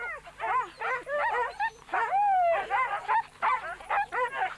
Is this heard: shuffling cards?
no